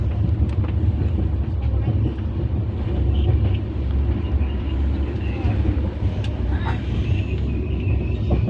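A train rumbles past close by, a steady heavy low roar of wheels and engine that stays loud and even throughout with no pause, while a few faint higher clanks and squeals come through over the din.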